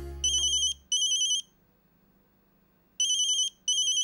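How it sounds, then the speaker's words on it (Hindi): A phone rings in two pairs of electronic trills separated by a short silence, clear and close. "ये इतनी रात को किसका फोन आया?"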